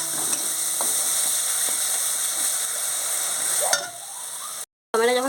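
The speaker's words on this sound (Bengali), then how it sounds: "এখনও আরও অনেকটাই ভাজতে হবে।" Tomato masala frying in a pan gives a steady close sizzle and hiss with occasional stirring clicks, then a short gap, and a voice comes in at the end.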